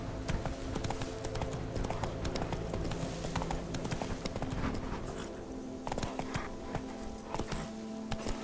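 Roach the horse in The Witcher 3 trotting with a quick, steady clip-clop of hooves across the whole stretch, close and even, over a soft ambient bed of game sound.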